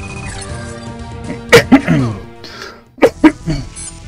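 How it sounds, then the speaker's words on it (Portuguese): A man coughs near the microphone during an SNK vs. Capcom arcade fighting game session: two quick pairs of sharp, harsh bursts over quieter game sound. "Desculpa a tosse aí"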